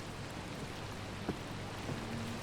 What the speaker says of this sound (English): let you guys enjoy the ambient sounds of the rain